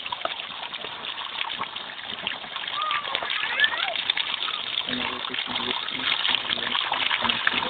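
Water is released and foam rises, making a continuous rushing, splashing gush that is fairly loud and steady, with voices talking over it.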